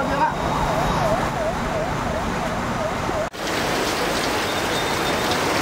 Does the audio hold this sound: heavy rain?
yes